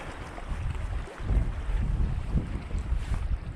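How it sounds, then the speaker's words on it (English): Wind blows hard outdoors near the water, buffeting the microphone with a steady low roar and rumbling gusts that swell and ease, with no voices heard. "The wind's really messing with me today."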